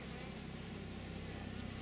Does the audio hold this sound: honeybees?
yes